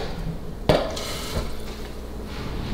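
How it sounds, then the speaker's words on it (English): A little water is poured into a pan of spinach, landing as one sharp splash with a faint wet trickle trailing off into quiet kitchen room noise. "Put that in there, a little bit of water."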